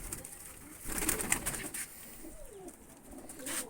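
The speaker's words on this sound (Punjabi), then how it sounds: "ਲਿਆਓ ਜੀ ਕਬੂਤਰ ਛੱਡ ਦਈਏ" Yellow-eyed pigeons released from their loft, giving soft, brief coos amid light fluttering and rustling, fairly quiet and close.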